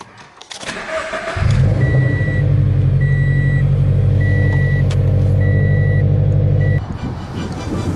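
A warm Subaru BRZ fires up with a sharp starter crank and catch, then settles into a loud, steady idle close by, with a repeating electronic chime beeping above the engine throughout before the revs drop slightly.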